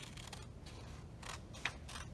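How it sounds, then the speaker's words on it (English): Craft scissors snip through paper in several soft, crisp cuts, one after another along a straight line, close and fairly quiet over a steady background hiss. "cut along my straight line"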